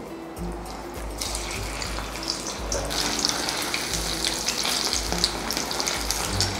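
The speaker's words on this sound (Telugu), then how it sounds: "ఆయిల్ బాగా వేడెక్కిన తర్వాత మనం కట్ చేసుకున్న ముక్కల్ని వేడివేడి ఆయిల్లో వేసుకోవాలి" Cut eggplant bajji pieces dropped into hot oil, a dense loud bubbling sizzle that swells and stays strong, with faint low thumps underneath and a busy crackle of frying batter.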